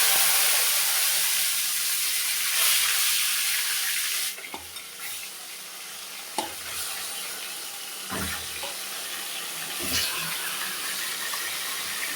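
Magur catfish frying in a pan of oil tempered with cumin, a continuous loud sizzle with occasional clinks and stirring knocks.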